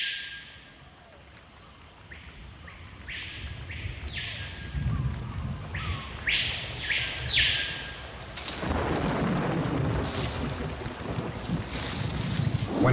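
A tropical thunderstorm over rainforest: distant thunder rolls and rumbles while rain grows heavier, then turns into a loud, steady downpour.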